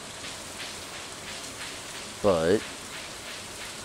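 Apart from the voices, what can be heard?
rain falling, from video game Stardew Valley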